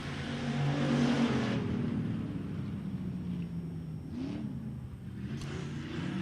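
Stock cars race around an oval track at the King of the Ring event, their engines roaring from mid-distance as they pass, with a steady drone that rises and falls.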